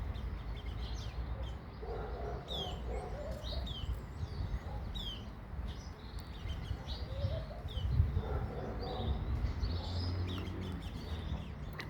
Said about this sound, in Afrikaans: voëls kom vreet die pawpaws in my tuin.